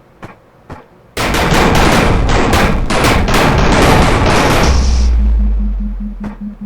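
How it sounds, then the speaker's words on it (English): A gun in the Murder Miners video game fires meteors and grenades in rapid succession, a loud dense burst of repeated blasts lasting several seconds, ending in a low rumbling boom and fading hum, after two faint clicks. "it will shoot meteors or launch a bunch of grenades at the same speed that it fires bullets"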